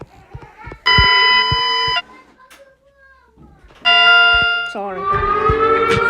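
An Emergency Alert System siren sounds in two loud, sustained, harmonic-rich blasts with a quieter gap between them, followed by a wavering tone, while someone nearby talks and reacts over it.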